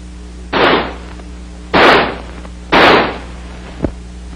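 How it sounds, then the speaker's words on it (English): An XM16E1 5.56mm rifle fires semi-automatically in three loud, sharp reports about a second apart, close and alone, followed by a faint metallic click. "By closing the bolt and turning the selector lever to semi, the rifle will fire semi-automatically."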